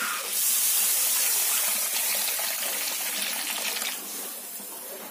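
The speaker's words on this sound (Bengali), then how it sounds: "সব মশলাগুলো আমার ভালো করে কষানো হয়ে গেছে, এতে দিয়ে দেব জল" Water is poured into a pan of well-fried spices for a pumpkin and lentil dish, a loud rushing gush and hiss that holds steady for several seconds before easing off slightly.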